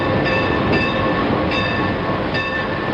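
A railway mail car train rolls along the tracks, a loud, steady rumble with rhythmic wheel clicks recurring about every three-quarters of a second.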